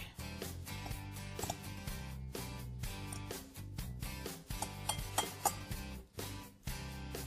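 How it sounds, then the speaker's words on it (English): Utensils clink and scrape against a bowl as a meatball mixture with onion and garlic is stirred together, a busy rhythmic series of knocks and scrapes, close and steady, with no voices. "Now mix this all together."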